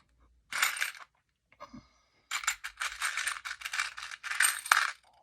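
Small metal keys and cogs handled in a pile, giving bursts of bright clinking and rattling in several close, loud clusters with short pauses between.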